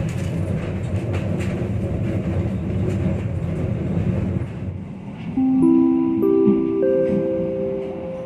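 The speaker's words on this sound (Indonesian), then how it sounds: "sesaat lagi kereta api Taksaka akan tiba di stasiun Purwokerto" The Taksaka train rumbles and clatters steadily, then a deep chord of horn-like tones rings out as it arrives at Purwokerto station.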